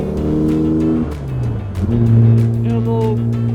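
An Aston Martin DB3S race car engine drives along at low revs, a loud, close, throaty drone whose pitch sags and then climbs again as it pulls steadily.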